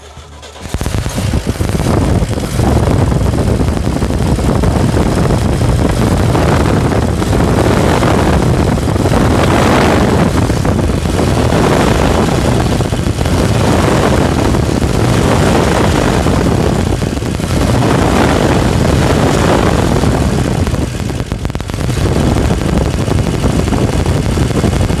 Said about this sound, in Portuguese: Vamos escutar a melodia desse motor agora aqui.